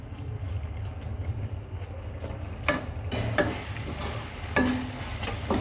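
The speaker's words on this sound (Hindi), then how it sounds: "थोड़ा चम्मच की मदद से और मैश कर लें।" Cooked, softened tomatoes are pressed and stirred with a spoon in a pan over medium heat, making soft repeated scrapes and occasional clicks over a steady low sizzle.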